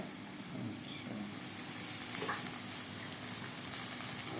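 Ginger added to a hot pan of onions gives a steady sizzle and frying hiss that holds evenly throughout, close and moderately loud.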